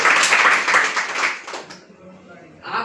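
Crowd applause for the DXN founder Dr. Lim Siong at a company meeting, loud dense clapping that fades out after about two seconds, with a brief swell of talk or cheering at the end.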